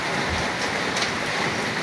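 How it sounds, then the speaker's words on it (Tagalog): Sudden heavy rain pours down as a dense, even hiss of water, loud and close, steady for about two seconds with no voices. "biglang bumuhos ang ulan."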